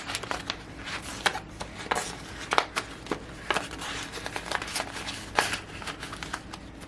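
Dollar bills being handled and dropped into a paper envelope for saving: a close, busy run of rustling paper and small crisp crinkles, with no voice.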